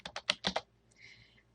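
A few quick keystrokes on a computer keyboard while entering a database query criterion, five close clicks in a short burst followed by faint room noise.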